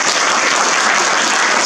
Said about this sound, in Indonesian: Tepuklah sikit untuk saya.